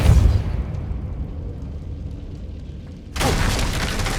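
A Confringo fire spell explosion in the Hogwarts Legacy video game: a loud boom at the start fades into a low rumble, then a second bright burst erupts near the end.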